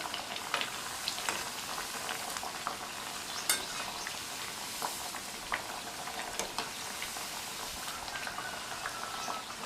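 Vadas sizzle steadily in a pan of hot oil, a dense, even crackle with scattered sharper pops and no voices, as the fritters are turned one by one.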